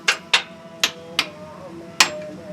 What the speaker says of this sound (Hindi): हथौड़ा मारकर ये क्या कर रहे हैं आप? ये हम ना व्हील चेक कर रहे हैं